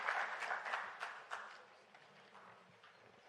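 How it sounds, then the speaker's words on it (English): Scattered, fading applause from a conference audience for a panel leaving the stage at a science forum closing plenary, faint and thinning to a few claps. "give the panel an applause, a round of applause"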